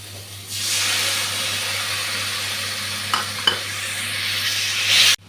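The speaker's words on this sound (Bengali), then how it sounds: "এখন গুলে রাখা মশলাটা দিয়ে দিচ্ছি।" Soaked spice paste goes into a hot pan with onions, setting off a sudden loud sizzle that holds steadily, broken by two sharp clinks of a utensil and ending in a brief knock.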